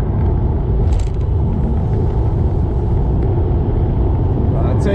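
A BMW F10 535d diesel accelerates hard, giving a loud, steady low rumble heard from inside the cabin, with an excited voice speaking over it.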